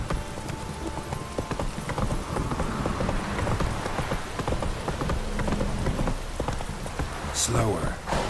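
Rain in The Witcher 3: Wild Hunt patters steadily while a horse's hooves clip-clop along, with occasional sharp clatters.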